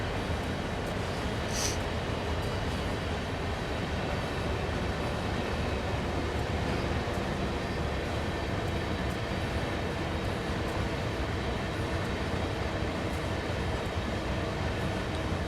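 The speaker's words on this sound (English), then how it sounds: "Love the AI train going by. That's pretty neat." An AI-controlled train rolls past in the Train Sim World 2 video game on the Sand Patch Grade route, a steady, loud, broadband rumble of rail cars that holds for the whole stretch with no voices.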